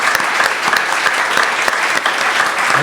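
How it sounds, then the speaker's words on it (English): A live audience claps for Chuck Collins after his talk, a brisk, loud burst of many hands with a few sharper individual claps standing out. "Can we get a round of applause for Chuck?"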